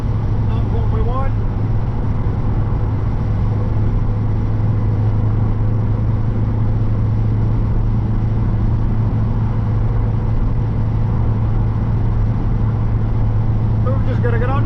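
Continuous heavy drone of a Cavalier 2.0 16v on a windy, busy road, dense low rumble holding steady throughout, with faint voice-like sounds near the start and end.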